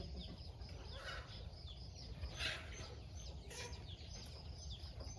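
Chickens cluck and squawk at a distance over a steady outdoor background hiss, with a few sharper calls standing out.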